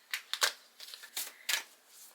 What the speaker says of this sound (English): We have to shuffle.